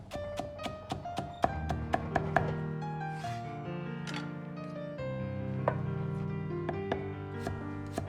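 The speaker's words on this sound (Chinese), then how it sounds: "再切成均匀的细丝" A kitchen knife chops carrot slices into thin shreds on a wooden board, with rapid, evenly spaced close-up taps, mostly steady with a few brief pauses.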